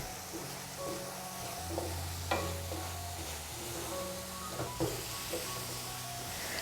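Poha laddu mixture being stirred in a pan over a medium flame, a soft continuous sizzle broken by scattered scraping and tapping strokes of the spoon, fairly quiet and close.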